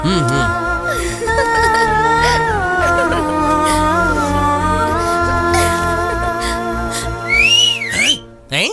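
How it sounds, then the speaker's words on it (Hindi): Someone whistles a shrill, melodic tune loud and close, with sliding pitch swoops and sustained notes, ending in a couple of rising upward whistles. "किस बदतमीज ने सीटी बजाई?"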